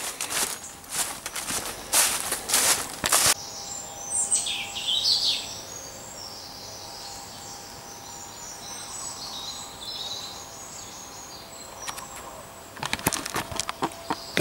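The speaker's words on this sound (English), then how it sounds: "Beautiful birdsong in this place, and the leaves are coming down now." Birdsong in wooded grounds with autumn leaves falling, scattered high chirps and calls at a distance, with footsteps crunching through leaves at the start and end.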